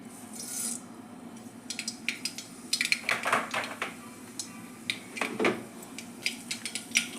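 Mustard seeds hit hot ghee and oil in a pan, giving scattered crackles and sharp pops that come and go irregularly over a low frying background.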